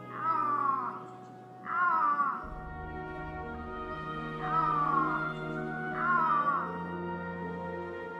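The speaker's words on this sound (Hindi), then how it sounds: "दुनिया की सबसे डरावनी बिल्ली आइबेरियन लिंक्स की दहाड़ एक दहशत पैदा करती है" An Iberian lynx in an Andalusian forest during mating season gives four drawn-out, wavering yowls in pairs, loud and close, over a low steady background hum.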